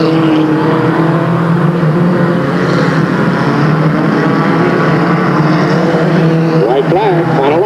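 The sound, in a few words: race cars on the Delta Speedway track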